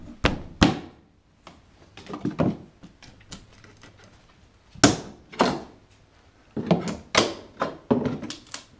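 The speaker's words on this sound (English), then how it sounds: "Put the pry bar under the molding and work it off" A pry bar works wooden floor molding loose, giving sharp close knocks and creaking cracks in uneven bursts with quiet gaps between.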